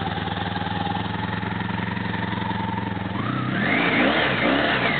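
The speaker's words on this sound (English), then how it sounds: "trying to rev it up without it dying" A 1984 Honda V-65 Sabre 1100cc motorcycle engine idles with a steady, close throb, then is revved up into a louder, rising and wavering roar near the end, with no voices.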